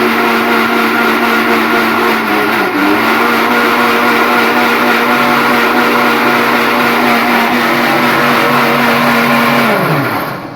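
A mixer grinder runs with a loud, steady motor whine for several seconds, then winds down as it is switched off.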